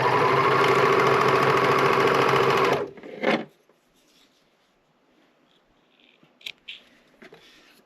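A serger sewing machine stitches a drawstring bag casing in a rapid, loud mechanical buzz for about three seconds, then stops with a brief clunk, followed by quiet fabric handling and small taps.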